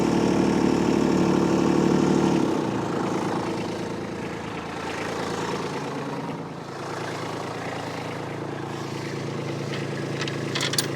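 A Kubota B2601 compact tractor engine idles steadily at close range, its pitch dropping slightly early on, then chugging on evenly.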